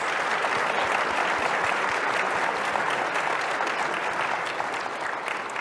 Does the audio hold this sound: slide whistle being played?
no